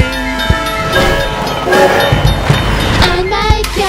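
A train rumbles past with rhythmic clacking of wheels on rails and a sustained horn-like tone, fairly loud and close.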